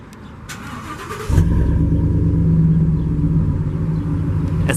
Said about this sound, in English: press twice on the key, which will give you a nice exhaust shot on startup